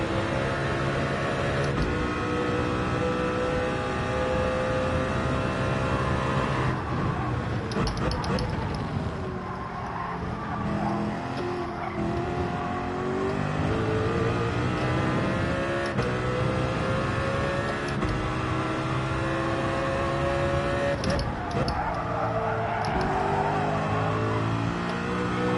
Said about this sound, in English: Need to rev it out now though.